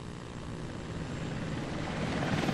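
An Apache helicopter in flight during the Gulf War, its rotor and engine roar forming a loud, steady, broadband rumble that grows slightly stronger toward the end.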